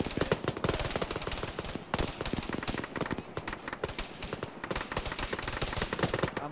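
Sustained ArmA gunfire from a squad firing across a ridge, a heavy mix of rapid automatic bursts and single cracks, near and far, rolling almost without pause.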